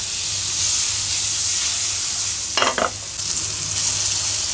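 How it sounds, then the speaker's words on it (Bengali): Chicken pieces, pricked with a fork, fry lightly in butter with a steady close sizzle and hiss, broken midway by a brief scraping stir of a utensil in the pan. "একটু বাটার দিয়ে হালকা ভেজে দেবো।"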